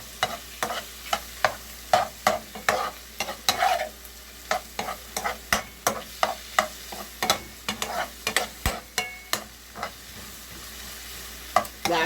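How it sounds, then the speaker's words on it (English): Mushrooms sauté in a pan with a low sizzle beneath repeated spatula scrapes and taps, a steady rhythm of distinct strokes spaced about half a second apart, close and fairly quiet. "So we're sauteing these up."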